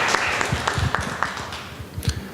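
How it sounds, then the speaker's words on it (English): An audience at an evening blockchain talk applauds as a presenter is welcomed: a short burst of steady, fairly close clapping from a modest crowd. "Please give him a warm round of applause."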